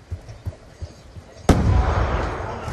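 A grenade in the Black Ops 2 video game goes off with one sudden loud blast after a few soft thuds, followed by a long, rumbling roar of debris and noise that fades slowly.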